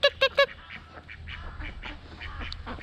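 Ducks at a village house give three loud, close quacks in quick succession, followed by fainter scattered calls and background murmur.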